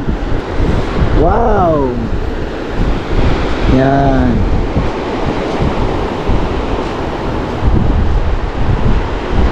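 Ocean waves surging at the shore with steady wind noise across the microphone, broadband and continuous throughout, while voices briefly exclaim over it near the start.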